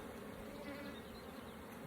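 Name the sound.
honeybees buzzing in an opened hive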